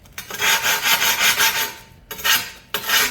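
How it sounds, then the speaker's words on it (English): Rough, rasping strokes of a sanding tool against a ceramic tile edge, in two long passes then shorter bursts, close and fairly loud with no talking. "now you come back with the sanding tool, take the rougher edge"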